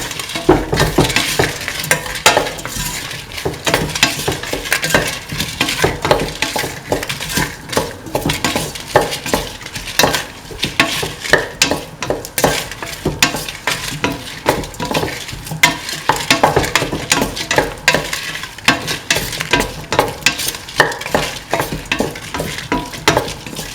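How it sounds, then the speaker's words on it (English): A kidney bean, tomato and coconut milk stew is stirred steadily in a sizzling pan, with a spoon scraping and clinking against the metal in a continuous close rhythm throughout, no voices present. "Thoroughly mix."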